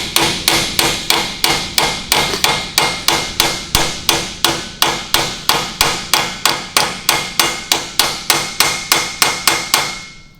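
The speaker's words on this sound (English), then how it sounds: "then just kind of hammer it on home." Rapid, evenly spaced hammer strikes driving a seal into a 2001 Firehawk axle, about three per second, sharp metallic knocks close by, continuing steadily with no talking.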